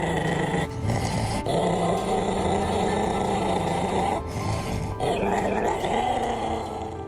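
A sick dog growls in a low, continuous rumble with grunting breaths, loud and close, running steadily throughout with only brief dips.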